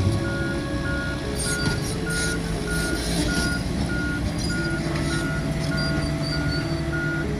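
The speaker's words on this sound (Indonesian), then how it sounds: "Selain dari aktivitas truk-truk dam, pengangkut material tanah uruk yang terus melakukan" Dump trucks hauling fill soil at a land-filling site beep steadily as they reverse, the regular pulses repeating over the constant rumble of heavy engines, with no voices.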